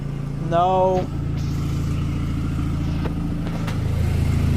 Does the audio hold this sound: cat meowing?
no